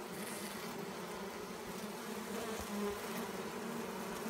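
Many honey bees buzz steadily close by at a hive entrance, a continuous droning hum with no talking.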